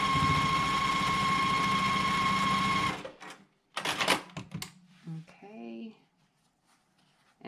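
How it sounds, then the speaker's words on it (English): A sewing machine runs steadily for about three seconds while stitching a final row onto a quilt block, then stops; brief handling noises and a short burst of talk follow. "And then I'm just going to go ahead and sew that last row on."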